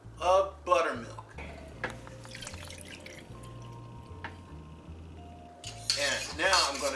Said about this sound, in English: And now I'm going to just mix all of that in here. Sorry for the scraping.